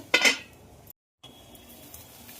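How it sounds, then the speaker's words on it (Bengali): Lid clattering onto a pan of frying spices with turmeric, ginger, cumin and dried chilli paste for a pabda fish curry, one bright metallic clank up front, then a quiet gap and a faint sizzle. "মশলাটা একটু ঢেকে দেবো।"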